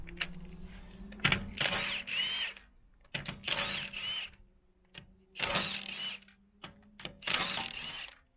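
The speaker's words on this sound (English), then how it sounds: "Okay, let's whiz this wheel off. Let's get that locking nut off first." A power tool whirring in four separate bursts as it spins off the locking wheel nut on a BMW 1 Series, close and loud with short pauses between runs.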